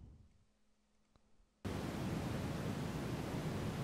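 Synthesized noise sweep built in FL Studio with a bandpass filter, starting as a faint hiss that abruptly jumps to a loud, steady, full-band wash of noise which holds for the rest of the clip.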